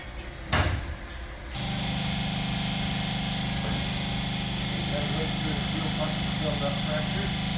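A Bombardier engine idles steadily after a brake line install, a constant low drone that starts after a sharp clunk, with people talking over it.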